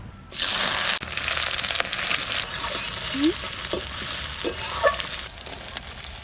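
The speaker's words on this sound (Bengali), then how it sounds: "পেঁয়াজটা বেশি ভাজবো না হালকা একটু নাড়ান দিয়ে" Onion fries in oil with bay leaf, cumin and dried chili, giving a steady, close sizzle with a few light stirring clinks and scrapes over it.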